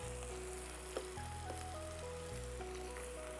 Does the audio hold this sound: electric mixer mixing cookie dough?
no